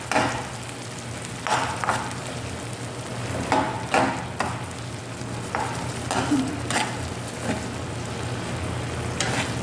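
Eggplant fries in a home kitchen pan with a constant close sizzle, broken by repeated scraping and clacking stir strokes at irregular intervals, without talk.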